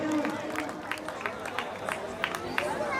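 An audience at a Ramlila committee event claps in scattered bursts beneath ongoing crowd chatter and talk, the applause moderate and somewhat distant.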